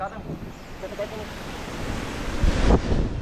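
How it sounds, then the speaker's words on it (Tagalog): Strong typhoon wind in Santa Ana, Cagayan, buffets the microphone with a continuous roaring rush, growing louder and gustier toward the end. "Lakas na mga idol yung hangin oh"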